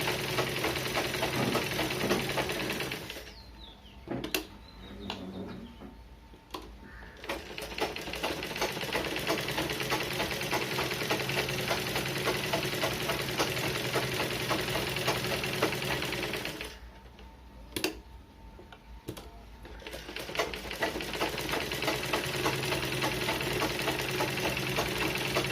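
A sewing machine runs in long continuous stretches of rapid, rattling stitching on the front part of a blouse, pausing twice for a few seconds with sharp clicks, then starting again at steady volume.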